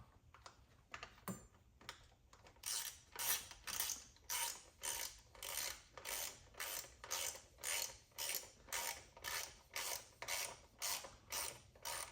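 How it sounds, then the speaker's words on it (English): A ratchet socket wrench tightens the ignition coil bolts on a BMW E36 engine during a Dinan coil install, with about twenty evenly spaced bursts of rapid close clicking after a brief quiet start. "once they're on the threads, you can start using your socket"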